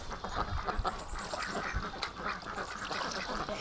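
Muscovy ducks in a breeding flock quack and hiss in a busy, overlapping clamor, close and continuous over a short stretch.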